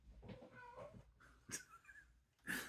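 A pet cat meows late at night at home during a bout of zoomies, with a few short, fairly close calls in separate bursts amid quiet room noise.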